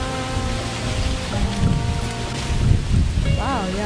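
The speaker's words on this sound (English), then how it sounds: "The wind's picking up." Wind gusting outdoors at a van campsite in a tropical setting ahead of rain, a steady rushing roar buffeting the microphone with surging swells, while a voice speaks over it.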